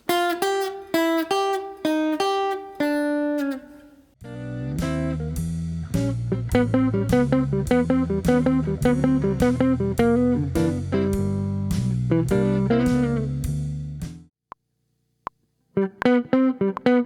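Guitar plays a blues lick with a string of quick, distinct picked notes, some short and staccato, ending in a gap of silence before a final brief phrase; no talking.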